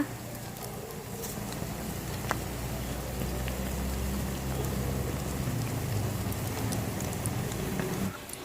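A steady, dense sizzle of an omelette frying in hot oil, loud and continuous for several seconds before cutting off near the end.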